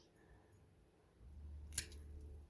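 One sharp snip of pruning shears cutting through a dead raspberry cane in a garden, a single crisp close cut with a soft rustle of the canes around it.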